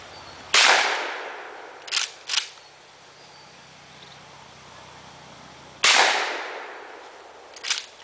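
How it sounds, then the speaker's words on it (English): Gunshots ring out while shooting at cans and bottles outdoors. There are two sharp, loud reports about five seconds apart, and each is followed by smaller impact cracks or pings from the targets. "Shot cap off the bottle."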